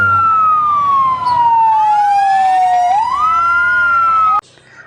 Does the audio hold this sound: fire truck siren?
yes